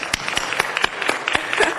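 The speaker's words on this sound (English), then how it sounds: "Let's give her a round of applause." Scattered clapping from a city council meeting audience, a short burst of uneven claps heard alone, fairly close and moderate in level.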